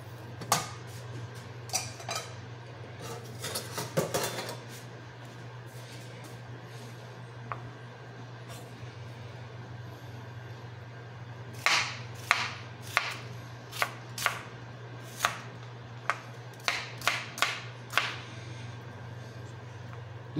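A knife chops an onion on a board: a few clustered cuts early, then a run of crisp, evenly spaced knocks in the second half, close and clear over a low steady hum.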